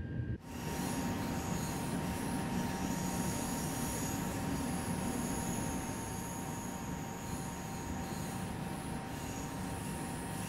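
A double-traction TGV Duplex runs on the LGV Méditerranée between Marseille and Avignon in Train Sim World 2, giving a steady, even rumble of wheels on rail with a faint high whine over it. There is no talk.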